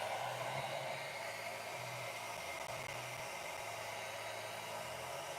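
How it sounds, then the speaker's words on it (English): A handheld blow dryer runs steadily on fresh acrylic paint for a figure model, a continuous airy whoosh with a low motor hum, fairly close and unbroken, with no voices over it. "So I'm gonna use a blow dryer here and hang out for a few while this is drying."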